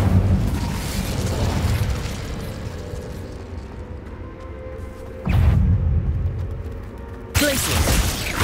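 The Incendio fire spell in Hogwarts Legacy, heard as loud fiery bursts and booming whooshes, a roaring blast at the start followed by two more sudden eruptions later, set against a low, rumbling game ambience.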